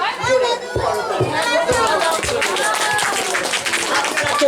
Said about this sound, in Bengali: তাই আরেকবার আপনাদের উদ্দেশ্যে আমার থেকে একবার জোরে করতালি।